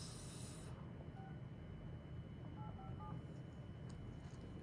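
Telephone dialing tones sound during an outbound cold call to a homeowner, short paired beeps tapped out in a brief sequence over a steady hiss of line noise, with no talking.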